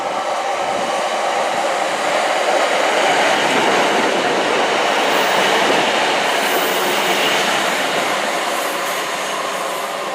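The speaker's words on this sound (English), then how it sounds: "We've got a 150 coming in actually" Class 150 diesel multiple unit arriving at Dawlish on a Plymouth service, a steady, loud rolling rumble and wheel noise that holds close throughout without pause.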